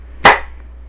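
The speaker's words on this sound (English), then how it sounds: "Okay, let's clap." One sharp, close hand clap rings out once and then cuts off into near silence.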